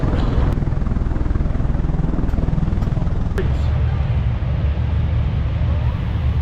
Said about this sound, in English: This modified Boeing C-97 cargo plane, nicknamed the Super Guppy, is extremely huge.